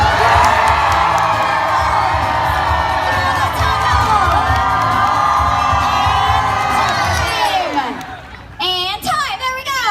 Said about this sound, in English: Nice cheering, Team Cooper.